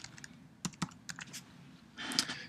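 An access code is typed on a computer keyboard: a short, close run of crisp, irregular key clicks, ending in a denser cluster of keystrokes.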